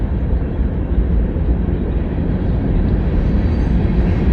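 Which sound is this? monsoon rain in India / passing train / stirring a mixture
passing train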